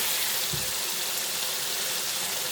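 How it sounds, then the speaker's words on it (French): Water gushes in a steady, close stream into a pot of blended tomatoes, a continuous pour with no speech. "je veux venir ajouter juste un peu d'eau ici"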